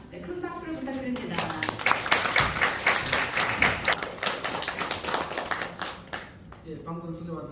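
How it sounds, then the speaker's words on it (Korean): An audience at a Korean foundation's founding seminar claps in a dense burst that swells to a peak and holds for several seconds before thinning out, with voices from a public address system speaking just before and after. "큰 박수를 부탁드립니다"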